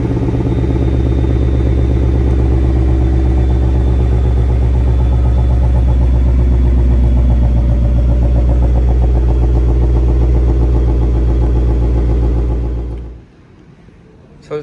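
A 2020 Ford Mustang GT Premium V8 runs steadily with a loud, deep, rumbling note and low pulsing beat, close by and without talk, before cutting off abruptly near the end.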